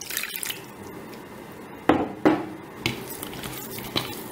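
Water is poured into a glittery Barbie bath-gel mix, giving a soft wet trickle with several louder splashy pours and drips, close by with no talking.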